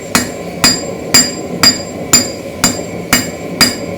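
A cross peen hammer strikes metal on an anvil while forging a keris blade, eight sharp ringing blows at a steady, even rhythm, close and loud, with no talking.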